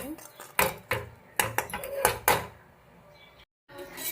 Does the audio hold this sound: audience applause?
no